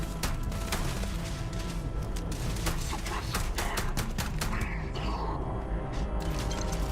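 Dense, continuous gunfire fills a firefight in the video game Starfield, with rapid overlapping shots and metallic mechanical clatter, loud throughout and with no talking.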